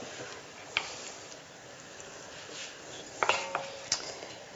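Penne pasta and tuna being tossed together in a bowl, giving quiet, sparse clinks of a utensil against the dish, with a few sharper taps near the end.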